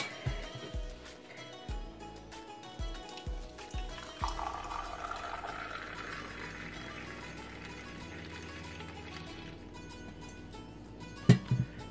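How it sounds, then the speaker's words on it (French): Freshly made mint green tea is poured from a pot into a glass in a faint, steady trickle, with a few soft clinks beforehand. "Nous allons verser, voir comment."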